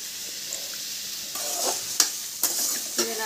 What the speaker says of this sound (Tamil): இங்கே பாருங்கள், காய் கொஞ்சம் கொஞ்சம் வதங்கிடுச்சு